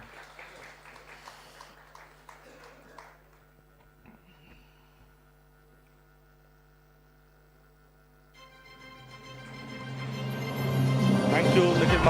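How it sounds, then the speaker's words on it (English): Audience applause at a sustainable energy conference in New Delhi, starting after several seconds of quiet room hum and swelling into loud, dense clapping that continues to the end. "A huge round of applause for him, please."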